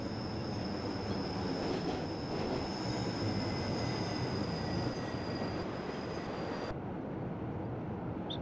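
Train braking on the Albula line in Train Simulator 2016, a steady loud rumble of rolling wheels with a high squealing tone running throughout, easing off slightly near the end.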